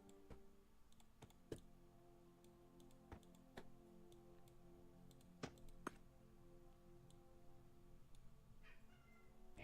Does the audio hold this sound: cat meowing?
yes